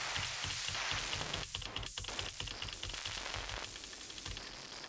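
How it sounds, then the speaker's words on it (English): Dense, hissy static texture from an Elektron Syntakt synthesizer used as a hi-hat or shaker sound, steady and crackling throughout like rain, with no voices. "I want to use something that represents more of like a hat sound. So I'm guessing we're going to have to go to static, maybe."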